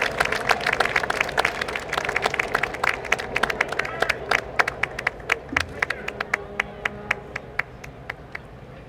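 A crowd of spectators claps for a sponsor at the George Washington Birthday Parade in Alexandria, Virginia, a scattered outdoor round of applause that thins out to a few isolated claps.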